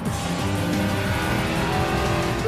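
A NASCAR race car engine roars steadily at close range on a track, a loud continuous mechanical drone with no voices.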